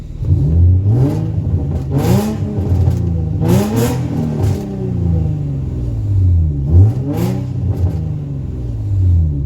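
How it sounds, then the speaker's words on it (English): An Infiniti G35 Coupe engine revs several times from idle, each blip rising and falling in pitch, loud and close, with a rumbling idle between the revs. "Get a few revs here for y'all."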